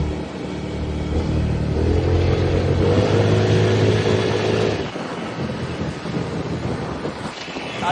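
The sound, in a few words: cars passing by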